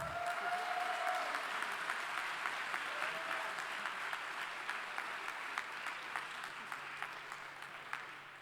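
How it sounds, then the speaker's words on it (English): Audience applause at the 2019 Formula SAE Michigan awards ceremony, a steady wash of many hands clapping in a large hall that holds for the full stretch with a few sharper claps standing out. "Big applause."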